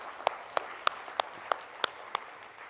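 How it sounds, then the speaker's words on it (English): Sparse, slow clapping at a provincial education gathering after a soloist's performance: about eight separate claps at even intervals, faint against a quiet room, more like one or two people than a full audience. "Big hand of applause for our soloist."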